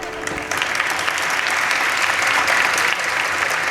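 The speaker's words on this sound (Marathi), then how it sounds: "पकवाजांसाठी जोरदार टाळी वाजवा बरं" An audience at a kirtan gathering claps loudly and steadily for the pakhawaj drummers, a thick continuous wave of applause filling the hall.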